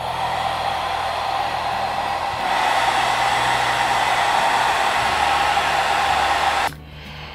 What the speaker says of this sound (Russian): можно легко использовать фен